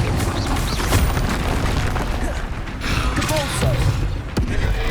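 Booming spell blasts from the Confringo fire spell in the Hogwarts Legacy video game, several heavy thuds and bursts over dense, continuous battle noise with loud layered effects throughout.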